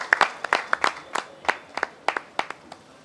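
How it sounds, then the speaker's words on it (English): Applause greets a returning athletics team: scattered, sparse clapping from a small audience, a dozen or so distinct claps spread irregularly over a few seconds, fairly near and without talk. "Let us give them a round of applause."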